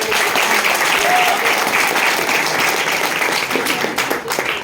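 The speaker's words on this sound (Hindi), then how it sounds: "उनके लिए भी एक और जोरदार तालियां" Loud crowd applause for students at an after-tour celebration, a thick continuous patter of many hands that stays strong and tapers slightly near the end, with faint voices mixed in.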